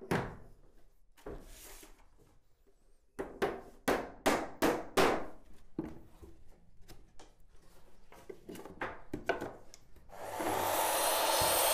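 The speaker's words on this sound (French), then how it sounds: "il vaut mieux utiliser une scie à onglet" Floor boards get cut on a miter saw: a series of sharp woody knocks and thuds as boards are handled, ending in a loud, steady whining roar as the saw spins up, close by.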